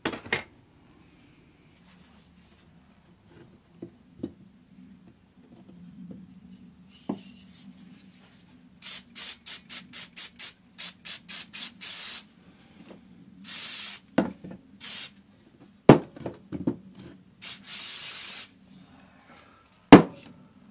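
Brake cleaner sprayed onto the bonnet catch parts of a Mk1 Skoda Fabia: a run of short, close hissing bursts, then several longer sprays, over a quiet low background.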